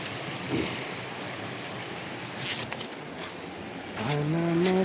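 Water of the Khudi Khola river flows in a continuous broad rush nearby, joined near the end by a brief louder tonal sound over the stream.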